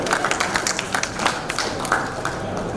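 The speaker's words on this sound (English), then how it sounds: "please welcome her with a huge round of applause" An audience at a supply chain conference claps to welcome a speaker to the stage, a sparse, scattered round of hand claps close by that stays modest in volume throughout.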